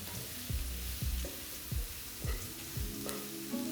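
Onions sauté in a pan for squid kizhi, frying with a constant sizzle while a spoon scrapes and stirs in regular low knocks about every half second.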